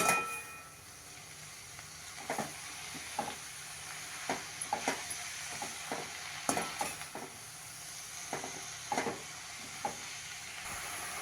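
Chopped amaranth greens stirred in a pan over low heat, a quiet sizzle under repeated soft scraping and tapping strokes of the spatula, close and alone without speech.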